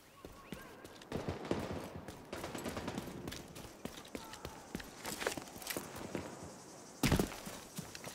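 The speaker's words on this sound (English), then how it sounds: "A lot of gunfire coming from like the left." Bursts of gunfire from the video game The Division 2 crackle through the clip, scattered shots and rapid volleys at moderate distance, with a sharp louder shot near the end.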